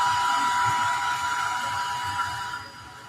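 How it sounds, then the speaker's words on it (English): A hair dryer blows steadily up close to dry watercolor-style paint on a hand-painted They Live Christmas ornament, a continuous airy whoosh that holds level and then dips a little toward the end. "All right, hair dryer."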